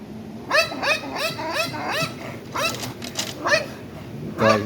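A dog barking territorially at night during a Boston police call, a string of sharp, rising barks and yips in quick clusters at moderate distance, over a low background rumble.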